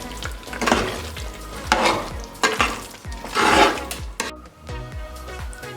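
Carrot halwa (gajar ka halwa) stirred in a pan, rhythmic scraping strokes of a spoon over a soft sizzle, several sweeping passes close up with no voices.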